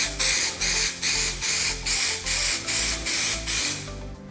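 Primer sprays in rapid, even bursts onto custom car speaker grills, about nine short hissing pulses in a steady rhythm, close and loud with a low mechanical thump under each burst.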